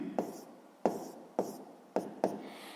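Handwriting during a sixth-grade maths exercise, heard as five distinct scratchy strokes of a pen or chalk in an uneven rhythm, close and fairly quiet, with a brief pause between each.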